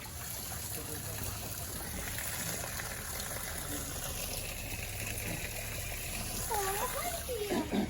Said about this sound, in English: So we'll just drain down some more of the water